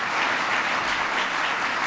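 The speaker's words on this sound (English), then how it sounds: "So give him a big round of applause." Audience at a mayors' forum on jobs bursts into steady, dense applause, continuous and fairly loud throughout with no talk over it.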